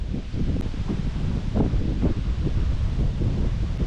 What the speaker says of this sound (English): As the wind's coming up from the lake.